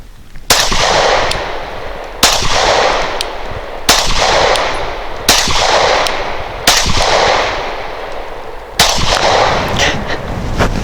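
A Canik TP9 Elite pistol fires six loud, close gunshots, spaced about one to two seconds apart, each with a sharp crack and a long echoing decay outdoors.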